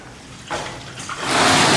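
Water rushes through a purifying filter in a workshop, a loud continuous hissing flow that swells and grows steadier toward the end.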